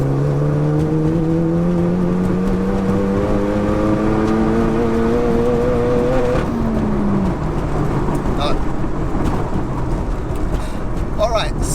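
Stage 4 SEAT Leon Cupra pulling hard in 4th gear from 100 to 200 km/h, engine note climbing steadily for about six seconds, then a shift or lift and continued loud road and wind roar.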